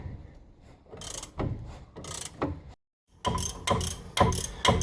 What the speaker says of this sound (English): once they're loose, more or less, you can finish it off with the ratchet